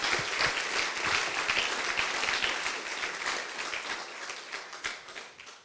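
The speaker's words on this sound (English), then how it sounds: "another applause for JJ" Audience applause for a speaker at a scientific conference plenary session, a steady wash of many hands clapping that gradually thins and softens toward the end.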